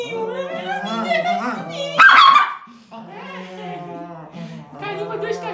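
Two small dogs being petted give high whimpers and yips, with a sharp louder burst midway, mixed in with a person talking affectionately to them.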